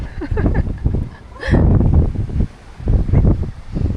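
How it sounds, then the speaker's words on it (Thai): Strong wind buffets the microphone at Bang Saen beach in Thailand, with loud, uneven rumbling gusts. "ลมแรง"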